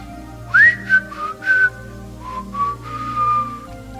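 A person whistles a short, melodic signature tune imitating a Venezuelan TV host's program whistle, with rising and sliding notes in several phrases, close and clear over a low background hum.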